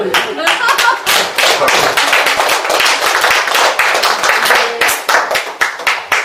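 An audience clapping at a civic history-education network anniversary event, loud close applause of many hands, dense and sustained, tapering slightly near the end.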